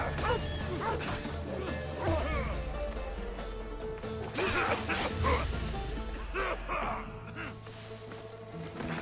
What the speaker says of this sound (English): Dogs do not make it easier